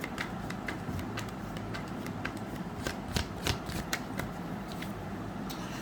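Tarot cards are shuffled by hand, giving a close, steady run of riffling flutters and soft clicks that continues for several seconds without anyone speaking.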